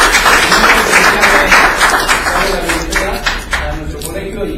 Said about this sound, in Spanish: le demos un fuerte aplauso a nuestro expositor